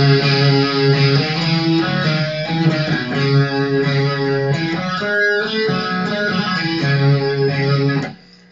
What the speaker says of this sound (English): Next, we're going to do that famous riff that he comes in with.